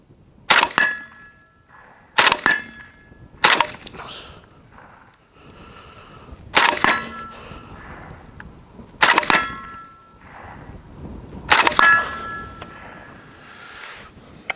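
A suppressed Zastava rifle fires six sharp, cracking shots, spaced a few seconds apart, each with a short ringing tail and quiet pauses in between.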